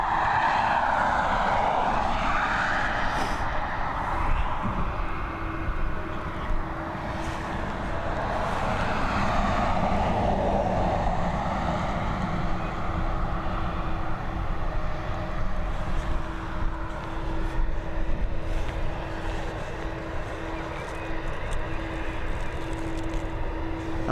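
Aircraft taxiing at Dublin Airport, a steady continuous engine roar and whine filling the whole span, heard from some distance with a sustained tone and slowly shifting pitch.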